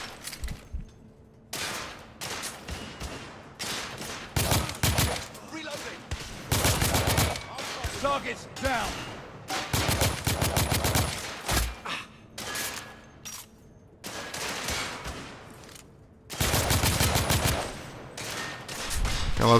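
Gunfire from a hard-recoiling gun in the shooter game The Order: 1886, coming as loud, sharp bursts and rapid volleys separated by short quiet gaps, with no voices.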